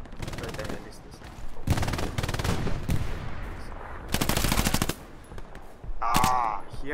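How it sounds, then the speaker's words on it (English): Machine gun fire in the World War II shooter Hell Let Loose, several loud, rapid bursts of automatic shots at close range, separated by short gaps, with a voice briefly heard near the end. "I wanna kill the MG."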